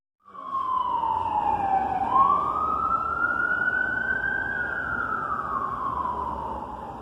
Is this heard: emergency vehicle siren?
yes